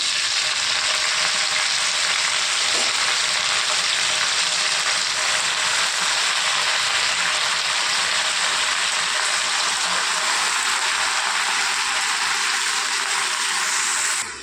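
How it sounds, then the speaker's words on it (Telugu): Plenty of hot oil for tempering Krishna district style gongura chutney hisses in a loud, continuous, rain-like sizzle that barely changes, then eases slightly near the end. "గోంగూర పచ్చడి తాలింపు పెట్టినండి అందుకొని నూనె ఎక్కువ వేసుకున్నాను"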